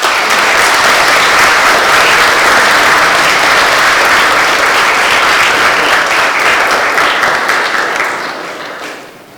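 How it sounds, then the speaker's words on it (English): A large audience at a university event applauds the university's third president with loud, sustained clapping that fills the space and fades out at the end. "please give a round of applause for CSUB's third president, Dr. Tomás Arciniega."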